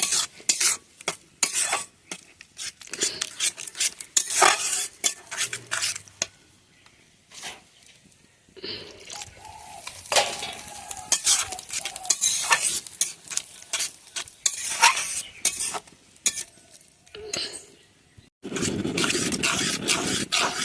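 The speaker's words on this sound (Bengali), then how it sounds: "চলো খুব ভালো করে নাড়াচাড়া করে নিই শাকের সাথে মিশিয়ে নিই" Grass pea greens mixed with rice paste sizzle and spit in a pan under vigorous stirring, with repeated scraping and clinking of the spoon against the metal, in uneven bursts and brief pauses.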